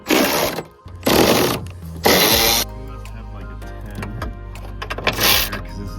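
Power ratchet buzzing in short loud bursts while zipping bolts off a 2019 Ford Transit during front bumper and hood removal, three quick runs followed by a steady lower whir and one more burst.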